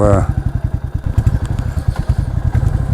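A modified Royal Enfield Classic 350 motorcycle rides along with a loud, close, rapid thumping exhaust beat that stays steady throughout, with faint voices underneath.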